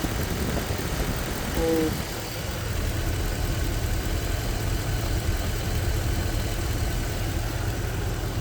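A car engine with an induced cylinder fault idles, a continuous moderate rumble under a brief spoken word, with a short electronic chirp early on.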